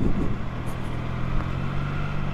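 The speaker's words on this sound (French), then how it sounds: "dans cette zone à basse vitesse, on va pouvoir tester la souplesse du moteur" A 2025 Triumph Trident 660 three-cylinder motorcycle, A2-restricted, loping along at low speed in a high gear around 26 km/h, its engine giving a steady low hum with wind rush and no speech.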